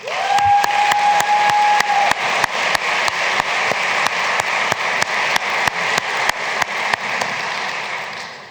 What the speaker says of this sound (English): Please join me in applauding our distinguished guests